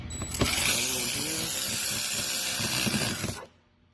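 Power tool whirring continuously as mud guard screws are tightened on a second-generation Hyundai Veloster, close and steady for about three seconds with small clicks, then stopping abruptly.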